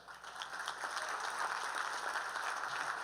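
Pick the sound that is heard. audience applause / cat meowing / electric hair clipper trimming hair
audience applause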